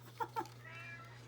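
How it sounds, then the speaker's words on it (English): Cat meowing in a closet, two short, faint meows in quick succession followed by a softer trailing call over a steady low hum. "hear my cat climbing into the closet?"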